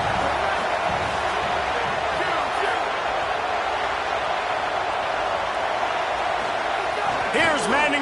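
Home stadium crowd in an NCAA college football game roars as a steady, dense wash of noise that holds throughout, with a brief sharp swell near the end.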